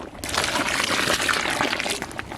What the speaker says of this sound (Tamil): இது கூட கடைச்சி வச்சிருக்க புளி தண்ணியை சேர்த்துக்கலாம்